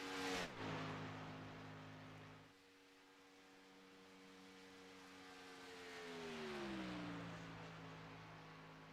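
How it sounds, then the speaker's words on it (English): A race car engine in the iRacing video game runs a qualifying lap on a super speedway, holding a steady high drone that dips after a gear change, then swells and falls in pitch, fairly quiet and with no talk. "Garrett Kinder coming out of turn 4 on his final lap."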